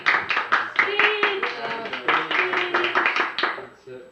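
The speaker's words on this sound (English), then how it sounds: "Hit the applause meter." Scattered clapping from a small audience at an LGBTQ community badge presentation, a few pairs of hands with whoops and cheering voices mixed in, lively and close, fading toward the end.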